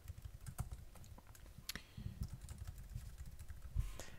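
Quick, quiet tapping on a computer keyboard as a username and password are typed, a steady run of soft key clicks with a few louder strokes, close up and faint.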